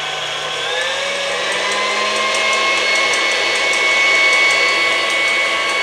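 An electric mixer whips egg whites for meringue, a loud steady motor whine with a faint high beater rattle running continuously and alone.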